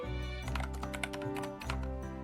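Quick, close clicks of typing on a compact Nuphy Air 60 mechanical keyboard form a busy, uneven run of keystrokes over a steady background hum.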